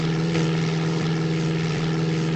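Propeller airplane droning steadily in a video game flight simulator, a loud, constant engine hum with a strong low tone that holds without a break.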